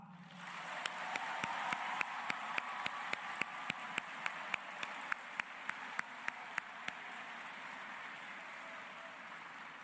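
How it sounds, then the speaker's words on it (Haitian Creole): A crowd at a political gathering in Haiti breaks into applause, a broad wash of clapping with a rhythmic unison clap beating steadily on top before it fades out. "n'a bat yon bravo Marassa"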